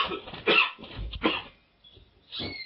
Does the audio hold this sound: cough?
yes